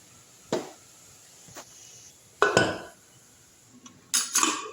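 A utensil knocks and scrapes in a pot of mutton biryani being stirred, a few separate clinks and scrapes spaced by quiet gaps, close and clear with no talk.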